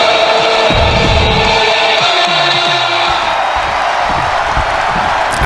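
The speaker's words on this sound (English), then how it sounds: "But the crowd are loving Seth Rollins in living colour." Arena crowd cheering in the WWE 2K26 wrestling game, a loud continuous roar of voices with whoops and rising shouts, under a brief low spoken voice.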